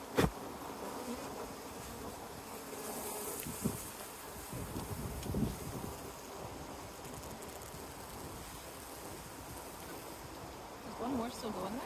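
Honey bees buzz around a hive as supers are added, a continuous close drone with knocks and handling sounds mixed in and people talking quietly.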